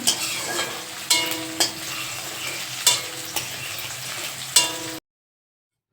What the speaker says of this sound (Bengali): পেঁয়াজ ভাজা চলছে এখন